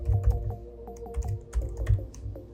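Rapid keystrokes on a computer keyboard, a close, steady run of light clicks with a few louder taps, alone with no talking.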